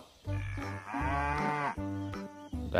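Orange plastic toy cow lets out a loud, drawn-out electronic moo, several bellowing phrases in a row with short breaks, close and alone with no talking.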